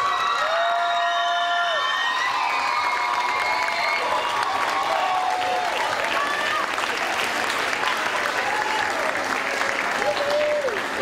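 A concert audience gives sustained applause to the young musicians, with loud steady clapping mixed with cheers, whoops and whistles. The excitement peaks early and then settles into continuous clapping.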